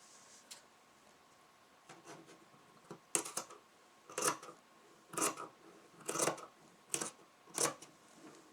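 Scissors snip through suit lining fabric in a series of short, crisp cuts close by. About eight separate strokes come at an uneven pace, with quiet pauses between them.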